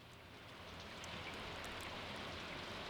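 Steady rain hiss from the video game Stardew Valley, a dense, even wash of falling water that swells slightly and holds at a moderate level without speech.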